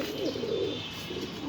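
Pigeons coo at a pigeon farm in Mirpur 13, Dhaka: low, rolling coos repeat nearby at a moderate level, layered over steady background noise with light chirps.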